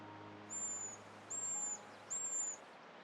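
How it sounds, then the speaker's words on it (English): Three evenly spaced, high, thin whistled notes from a pygmy owl in Alpine conifer woods, each lasting under half a second and rising clearly above a quiet, steady forest background. "Whereas the pygmy owl is usually a nocturnal predator, it now hunts in daytime as well, to fill the open beaks of its young."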